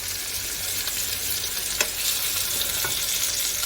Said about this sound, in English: on the opposite side so that the roast can get a nice sear